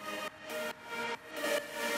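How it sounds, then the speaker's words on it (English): A main lead synth drenched in normal reverb swells through a few sustained, washy notes that blur into each other, soft and spacious with no other sounds. "And this is the normal reverb sound."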